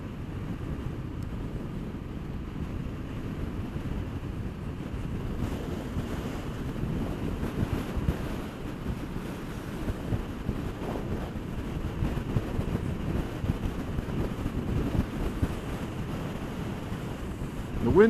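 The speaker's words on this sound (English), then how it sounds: "now we're running straight into the wind" Steady low wind rumble buffets the microphone while riding straight into a headwind, a continuous roaring noise that swells slightly and holds for the whole stretch.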